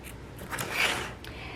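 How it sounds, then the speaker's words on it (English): Scissors snip and rustle softly through raw fabric edges as they trim around an appliqué tack-down stitch in machine embroidery, giving a brief, close, faint cutting sound with no talking. "you want to trim the raw edges that are on the outside of that tack down"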